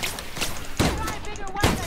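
Gunshots in The Outer Worlds, a few heavy booming shots spaced under a second apart, loud and close, over a busy layer of game sound and talking voices.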